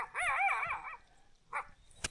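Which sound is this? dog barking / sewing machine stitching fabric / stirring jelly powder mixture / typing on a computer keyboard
dog barking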